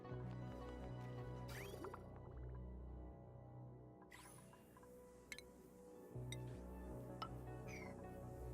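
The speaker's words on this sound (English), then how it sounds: "dump that water back in here, I guess" Water being dumped in the game Oxygen Not Included, a low liquid gurgle and dripping over a steady droning game backdrop, with a few bright chimes and clicks scattered throughout.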